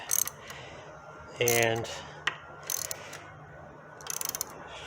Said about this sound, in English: we're having to use a puller to get it off